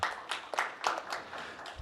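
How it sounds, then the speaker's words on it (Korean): Audience applause at a policy forum on community radio in Gwangju, heard as a short, uneven burst of clapping in distinct waves, moderately quiet and without talk. "우리 이희경 팀장님 오셨는데 박수 한번 부탁드리겠습니다"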